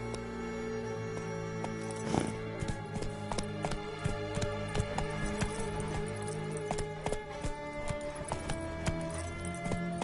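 Horse hooves clip-clop steadily in The Witcher 3 under a bed of game music, a close, even rhythm of strikes running through the whole stretch, with a brief rider's urging near the start.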